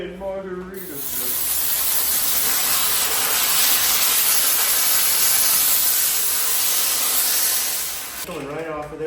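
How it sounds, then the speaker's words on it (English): A steamer hisses steadily and loudly for about seven seconds while vinyl wrap is being removed from a Tesla. Brief voices are heard at the start and end. "Once that gets to about 100, I will start steaming this, and then we'll peel the wrap right off."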